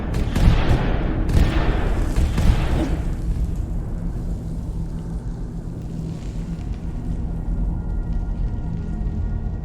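Fireworks effect in the video game Skyrim Anniversary Edition: a few booming, crackling bursts in the first three seconds, then a steady low rumble that fades into the background.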